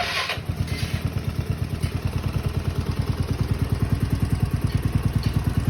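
A Yamaha Mio scooter engine fires up after a brief pause, then settles into a steady, rapid putter at idle, close and loud with no talking.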